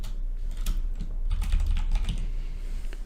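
Typing on a computer keyboard: a run of close, quiet key clicks in uneven bursts over a low background hum.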